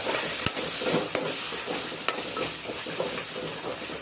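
Chili paste, made from ground bhut jolokia, fries and is stirred in a pan for Assamese-style soyabean masala. A steady close sizzle runs throughout, broken by sharp clinks and scrapes of the spatula against the pan, with no talking.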